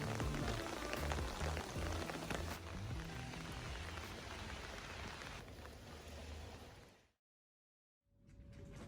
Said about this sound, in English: as I listened to the raindrops